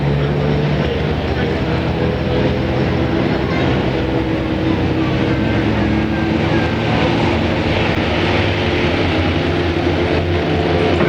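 Race cars on an oval track at King's Lynn roll into a rolling start, their engines blending into a loud, continuous, steady drone that fills the whole stretch.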